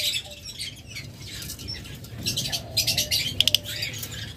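A green opaline pair of lovebirds in a cage giving soft chirps and brief wing flutters and scratching, close but quiet over a low background hum, ending in a few sharper tweets.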